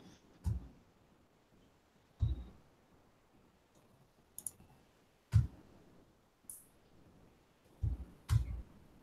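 A laptop trackpad is clicked in a quiet room: sparse, soft single and double taps spaced a second or two apart, alone without talk.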